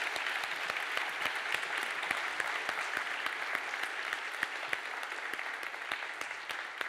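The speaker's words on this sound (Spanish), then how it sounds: "Un aplauso grande a Maxi Díaz, por favor." An audience at a 3D animation masterclass gives sustained applause, a steady dense clatter of many hands clapping at moderate volume for several seconds, with no speech over it.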